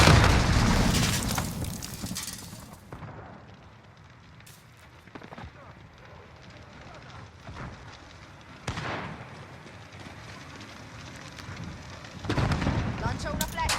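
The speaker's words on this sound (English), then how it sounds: "Granata partita!" Booming blasts and gunfire in a Call of Duty-style shooter match with a grenade going off, loud bursts at the start and again near the end amid ongoing combat noise, with players' voices speaking over the action.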